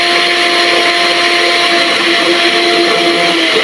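A food processor grinds peanuts into peanut butter, a loud, steady motor whir with dense churning that holds without a break.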